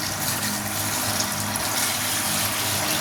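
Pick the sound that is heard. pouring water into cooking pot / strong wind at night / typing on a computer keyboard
pouring water into cooking pot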